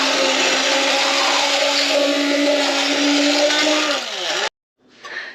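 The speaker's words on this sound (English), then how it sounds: "I'm going to get this immersion blender in here and see if I can show you guys a little bit of it blending" Immersion blender whirring steadily at high speed while blending a thick sauce in a pan, loud and close, then cutting off abruptly with a brief faint clatter afterward.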